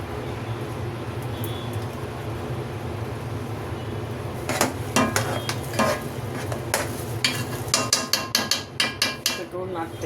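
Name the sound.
stirring chana dal halwa with jaggery in a pan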